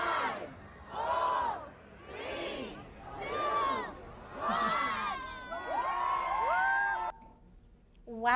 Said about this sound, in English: This is the best crowd I've ever seen at this event